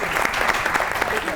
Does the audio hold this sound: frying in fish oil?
no